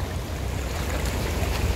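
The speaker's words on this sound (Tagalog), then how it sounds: "Ang lakas ng tubig." Rushing water of a strong river current under a bridge roars steadily, a dense, continuous wash of flowing current, loud and close, with no voices.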